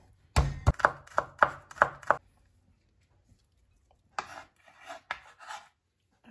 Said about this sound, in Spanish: El diente de ajo lo voy a picar.